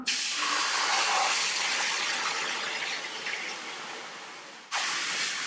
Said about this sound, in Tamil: இதுல நம்ம எடுத்து வச்ச பீட்ரூட் ஜூஸை சேர்த்துக்கலாம்